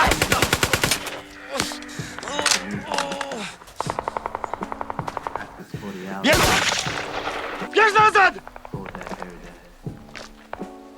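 Sharp gunfire bursts and rapid machine-gun volleys from the war film No Man's Land, loud and close, mixed with scattered single shots, thuds and footsteps, with brief voices in between.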